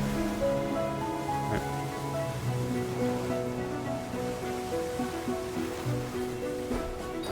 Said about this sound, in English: And the waves as well, just for waves in general.